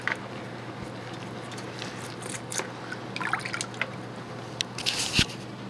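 Water runs over beer tap parts held under it for cleaning, making soft trickles, drips and squishy splashes with a few sharper spatters near the end.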